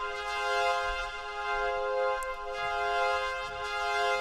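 A Prophet synthesizer plays a sustained, harmonically rich pad in an electronic track, with steady stacked tones held at an even, moderately loud level for several seconds and no talking.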